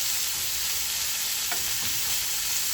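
Thinly sliced onions frying in the same pan that just cooked chicken, a steady broadband sizzle with a brief stir midway, no talk.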